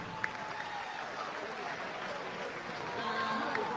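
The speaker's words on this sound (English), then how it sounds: "Give them a big round of applause" Crowd applause for the All-District boys' basketball team at a district championship game, a steady wash of clapping from a gym audience while an announcer speaks over it.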